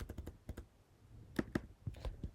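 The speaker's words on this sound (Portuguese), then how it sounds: "vou dar um enter aqui" Quiet typing on a computer keyboard during a MySQL database lesson, a scattered run of soft key clicks with short pauses, then a few firmer taps such as the Enter key, close by.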